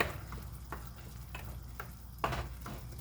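Vegan lentil soup being stirred in a pot, a few soft scraping strokes and quiet clinks of a spoon against the pot at an irregular rhythm over a low background hum.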